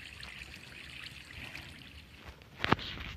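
Water flows in the Minecraft video game, a soft, steady trickle close by, ending in a brief sharp click.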